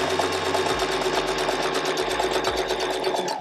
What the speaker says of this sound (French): Et on vient coudre avec un point droit tout le long.